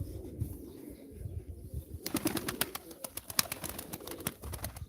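Pigeons coo softly nearby at a live pigeon auction, then a burst of wings flapping repeatedly takes over, loud and fluttery, with more cooing mixed in.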